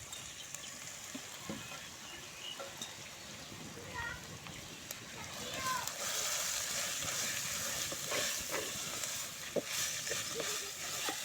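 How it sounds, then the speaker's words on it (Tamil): Gooseberries drop into a pan of cooked garlic for pickle, bringing a soft, close sizzle and frying crackle that grows a little louder midway, with a voice talking quietly over it. "இப்போ வந்து நம்ம நெல்லிக்காய் போட்டுக்கலாம்."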